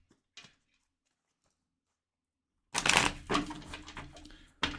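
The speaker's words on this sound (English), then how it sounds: "So I'll just shuffle until I get an answer." Tarot cards shuffled by hand in quick riffling bursts, close and fairly loud, after a near-silent stretch with one brief soft rustle.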